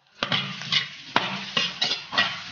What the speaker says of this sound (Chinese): 倒入牛腰子，全部炒下，放入小葱、胡萝卜